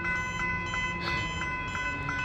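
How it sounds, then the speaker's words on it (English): A level crossing alarm at Station Street, Aspendale, Victoria rings out as a rapid, evenly spaced run of tolling tones over a steady background hum, sounding fairly close and unbroken. "Okay, the level crossing just started now. I can hear the alarm from here."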